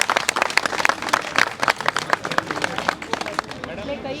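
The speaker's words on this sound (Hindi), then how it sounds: "जोरदार तालियों के साथ जोरदार तालियां" An audience claps loudly to welcome a madam at an event for senior citizens and pensioners, sharp dense applause with crowd murmur underneath, tapering off toward the end.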